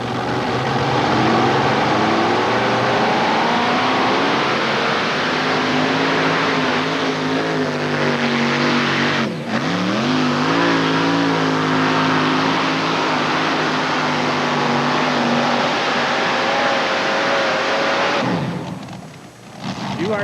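A pulling tractor roars at full throttle during an NTPA tractor pull at the Ohio State Fair in Columbus in 1989, its engine a loud, sustained, dense drone that wavers in pitch and briefly dips before roaring on, with faint crowd noise beneath.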